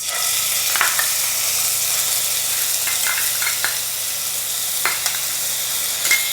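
Ground coconut paste for a bitter gourd pachadi fries in a hot pan, a steady close sizzle with a few sharp scraping stirs of a spoon over it, no talking.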